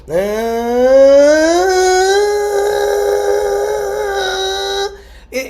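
A human voice mimics a car engine straining in low gear, a sustained rising drone that climbs in pitch then holds steady for several seconds.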